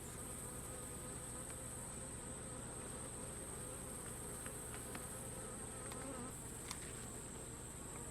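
A honey bee colony in a Layens hive, a dense, continuous buzzing drone, close and steady, with occasional louder passes of individual bees.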